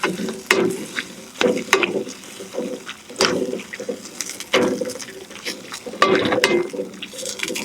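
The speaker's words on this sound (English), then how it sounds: "Doesn't hurt to just keep stirring it." A utensil stirs chicken stir fry with sauce, cornflour and pepper in a pan, making close, repeated clinks and scrapes in an uneven rhythm over a soft sizzle.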